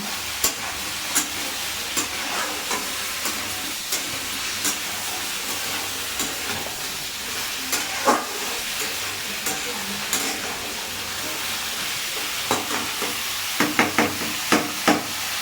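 Vegetable chachchari frying in a pan with a little salt, a steady close sizzle with scattered scraping stirs, clustering into quick strokes near the end.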